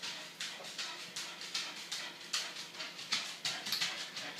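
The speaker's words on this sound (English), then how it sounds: "you can hear my dog walk by" A dog walking past indoors, soft rhythmic paw taps and clicks repeating across the floor, quiet and close with no talking.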